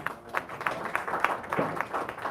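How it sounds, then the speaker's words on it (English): Faint applause from an audience at a talk in Capitol Heights, with a small crowd clapping in a loose, steady patter heard from a distance. "Let's give JABARI a round of applause"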